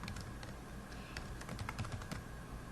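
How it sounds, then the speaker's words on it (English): A computer keyboard clicks with quick, uneven keystrokes at close range, quiet and alone with no speech, as a place name is typed into a library cataloging record. "so I'm going to type in Chicago"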